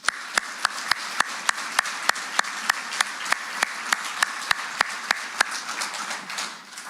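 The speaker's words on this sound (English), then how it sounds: "Please join me in a round of applause for the instructors" Applause for the instructors at a fire department recruit graduation: a moderate patter of many clapping hands with a few sharp, evenly spaced claps standing out nearby, fading slightly at the end.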